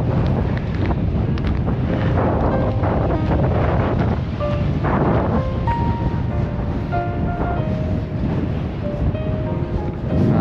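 Strong wind at Abraham Lake in winter buffets the microphone in a continuous, loud roar, with faint tonal sounds drifting through the gusts.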